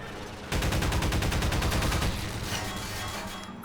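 Rapid automatic gunfire from a gun in Half-Life 2, a fast steady stream of close, loud shots lasting a couple of seconds, then trailing off into a fading echo.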